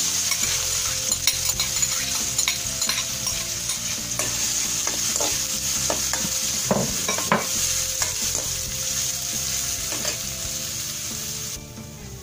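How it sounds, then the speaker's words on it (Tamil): Onions sauté in a pan for Chettinad-style mochaikottai masala, a loud continuous sizzle broken by frequent spatula scrapes and clinks against the pan, close and steady with no talking. "ஆனியன் நல்லா வதங்கிடுச்சு."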